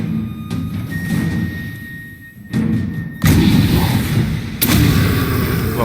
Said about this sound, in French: on va rediriger l'artillerie sur ces connards